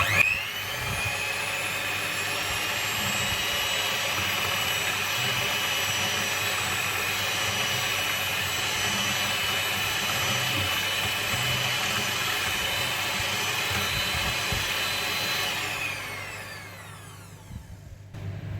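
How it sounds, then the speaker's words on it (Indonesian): Electric mixer whirring steadily while blending a half-kilo batch of martabak batter, a continuous loud motor whine that holds for most of the stretch and then winds down near the end. "Oke, kita mixer sebentar agar tercampur."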